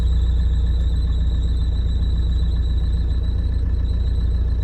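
Loose engine belt on a Tata Safari squeals steadily over a loud, constant engine rumble close by, holding a thin high whine without a break.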